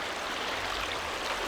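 Catherine Creek running at normal flow, a steady broadband rush of flowing water heard close and continuous with no voices.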